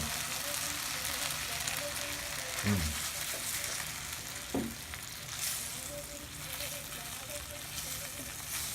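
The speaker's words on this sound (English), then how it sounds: "Listen to that sizzle." Steady close sizzling and crackling of tempeh frying in buffalo sauce in a hot pan, with a few low stirring scrapes, continuous throughout.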